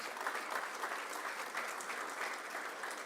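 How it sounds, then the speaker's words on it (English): An audience at a business event gives a round of applause, a steady, fairly soft wash of many hands clapping at a distance with no break. "please, a round of applause for yourselves."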